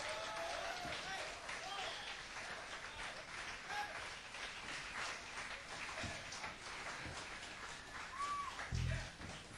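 Crowd applause at a live blues concert at the Jabberwocky, Syracuse University, in 1985, fairly faint and continuous, with someone talking over it.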